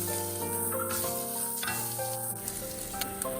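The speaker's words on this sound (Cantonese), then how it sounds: "燒熱個鑊，鑊熱之後放1茶匙嘅油，然後倒入臘腸、臘肉" Chinese sausage and cured pork stir-frying in a hot wok with a little oil, a steady close sizzle with brief stirring scrapes and no talk, while turnip cake is being made.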